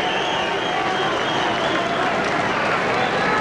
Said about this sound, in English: Hernandez going round, getting a round of applause from the fans